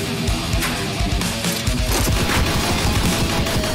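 Rapid, dense gunfire from the VR video game Kroy rattles loudly and continuously, mixed with game noise.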